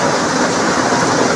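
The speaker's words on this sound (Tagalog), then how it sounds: "Ang lakas na ng ulan." Heavy rain pours down in a dense, loud, continuous hiss of drops on surfaces, a steady roar with no talking, heard from a waiting spot in a vehicle queue.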